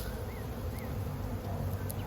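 A swarm of honey bees hums continuously and close, a dense, steady buzz with no talking.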